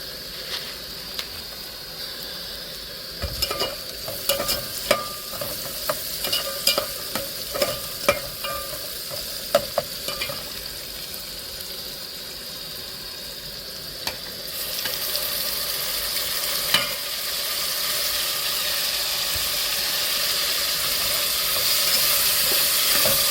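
Fenugreek seeds fry in a pan with a steady sizzle, broken by clicks and scrapes of stirring in the first half, then a smoother, louder hiss toward the end. Nobody talks.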